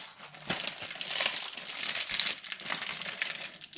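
A plastic bag crinkles as it is folded over while hosta seeds are stored for a germination experiment, giving close, soft rustling and crackling in steady bursts with no talking.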